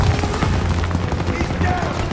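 Heavy WW2 battle fire aimed at an MG-42 machine gun nest in Call of Duty WW2, a dense, loud, continuous rattle of gunfire and booms with shouted voices mixed in.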